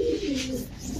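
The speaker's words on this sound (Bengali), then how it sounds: "কবুতরের কোয়ালিটি দেখেন, দুটোটাই গলা কষা" A short, close coo from show pigeons of Pakistani Laldom, Gorra, Chila, Teddy and Army breeds, with a low, wavering throaty tone.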